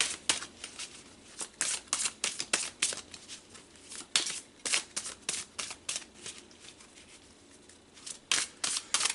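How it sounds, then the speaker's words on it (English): Tarot cards riffled and shuffled in repeated quick bursts, crisp flapping clatters close by with brief pauses between, no talking. "So let's pull some tarot cards"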